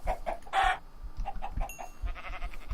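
Chickens clucking in the Minecraft video game, a few short separate clucks with a brief burst in between, fairly quiet and with no one talking.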